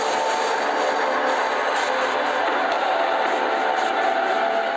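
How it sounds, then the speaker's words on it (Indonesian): A train rushes past a railway crossing just centimetres from a man, producing a loud, steady roar of wheels and rushing air close up throughout. "kereta hanya menyambar beberapa sentimeter dari tubuhnya"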